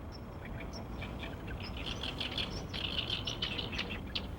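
Sandpipers at the Nakdong River estuary give high chirping calls, several overlapping short notes over a steady broadband wash of background noise.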